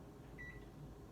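Low steady hum of a microwave oven running while eggs cook inside a ceramic egg cooker, a faint continuous drone with a brief soft tone partway through.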